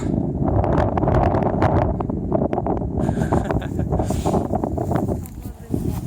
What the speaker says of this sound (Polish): Z pogody mniej, bo wieje strasznie.